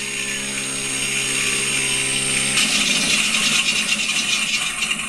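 An electric RC AT6 Texan fitted with a motor sound system, taxiing with a steady simulated radial engine drone that shifts partway through into a rougher, rumbling texture, loud and continuous with no talk.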